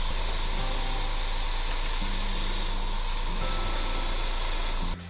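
Red paint sprayed onto a foam prop in a workshop, a loud continuous hiss held for about five seconds with a steady low hum beneath, cutting off abruptly at the end.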